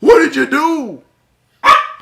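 A pet dog in a home: someone speaks briefly, then after a pause a single short, loud bark sounds close by.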